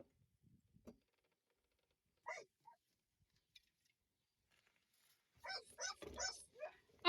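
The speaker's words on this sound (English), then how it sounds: "He's barking for that ball." A dog barks for a ball a few times, short sharp yips spaced apart and then a quick burst of barks near the end, fairly close against an otherwise quiet background.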